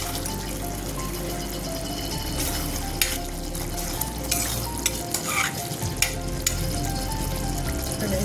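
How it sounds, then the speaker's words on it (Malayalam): A ginger curry reduces in a pan on a low flame, with a continuous soft bubbling sizzle, a few sharper clinks and a stir partway through, and no talking. "ഇനി ചെറിയ സിമ്മിൽ നമുക്ക് വറ്റിച്ചെടുക്കാം. അടച്ചു വെച്ച് വറ്റിക്കാം."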